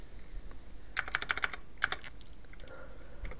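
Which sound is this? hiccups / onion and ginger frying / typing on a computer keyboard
typing on a computer keyboard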